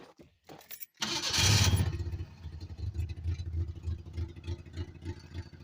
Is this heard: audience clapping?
no